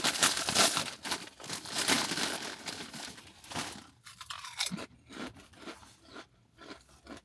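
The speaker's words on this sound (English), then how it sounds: "So I'm going to put chips on a sandwich." Potato chips are pressed onto a sandwich, giving loud, close crunching and crinkling in repeated bursts that taper into softer, sparser crackles.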